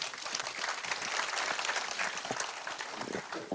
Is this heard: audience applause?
yes